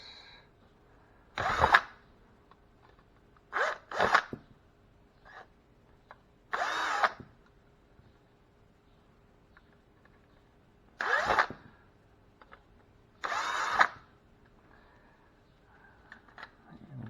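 A power drill backs screws out of electrical outlets in several short, separate buzzing bursts with quiet gaps between them, close and fairly loud.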